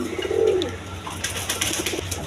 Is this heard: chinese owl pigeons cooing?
yes